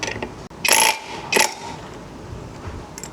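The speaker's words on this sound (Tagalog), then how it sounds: "Gamit lang tayo dito ng 22mm na socket." A 22mm socket wrench ratchets off the pulley nut of a Honda ADV 160 scooter in two short, loud clicking bursts, followed by faint metallic handling sounds.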